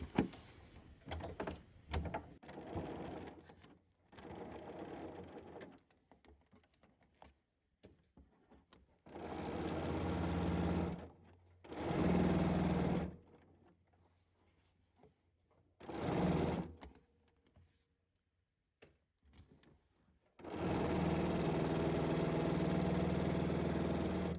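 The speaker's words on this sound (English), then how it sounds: "We're just going to sew on this side where the pink little nose is, right there." Sewing machine fitted with a freehand embroidery foot, running in several separate bursts of steady mechanical whirring with short quiet gaps between them, close and fairly loud.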